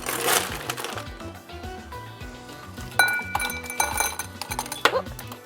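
Ice cubes clink and crack as they drop one after another into a glass for a gin and tonic, bright close clatters bunched at the start and again near the end, with faint background tones beneath.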